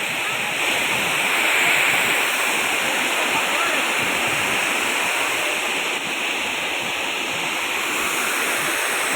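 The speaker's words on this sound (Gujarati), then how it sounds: "ફૂલ પાણી જો ત્રિવેણીમાં" River water flows at Triveni in Nashik, a loud, continuous rushing wash that fills the whole stretch close by, with no break.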